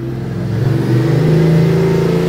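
A Ducati DesertX motorcycle engine revs in an engine lab, giving a steady, loud droning hum with layered tones that swell slightly and hold for a couple of seconds, close to the listener.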